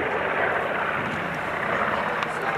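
A B-25 Mitchell twin-engine World War II bomber flying solo display manoeuvres at an air force open day in Leeuwarden, heard as a steady, loud broadband engine roar that fills the whole moment without a break.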